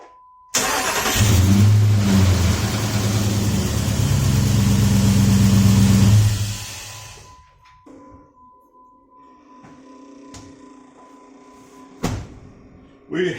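Jeep WJ with a 4.7 Powertech V8 cranks and catches after a new starter motor is fitted, running loudly close by for several seconds before cutting out, leaving a quieter stretch with faint clicks and a brief bump near the end.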